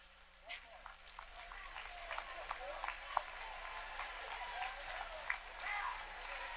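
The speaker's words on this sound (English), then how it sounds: "would you please stand so we can give you a round of applause?" A room full of people applauds student athletes at a Ball State sports awards event, building from scattered claps into sustained clapping with a few sharper hand claps and crowd murmur.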